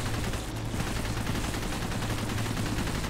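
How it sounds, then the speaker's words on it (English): Dense, continuous gunfire in the video game Cepheus Protocol, a loud, unbroken roar of rapid shots and blasts filling the whole stretch with no pauses and no voices. "I'm shooting at it."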